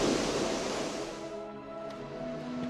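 Waves breaking on Teriberka beach on the Arctic sea, a steady wash of surf that swells loudly at first, then eases into a softer, continuous roar with no voices.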